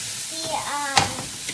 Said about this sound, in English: stir frying, I think I'm flipping the garlic or ginger and mushrooms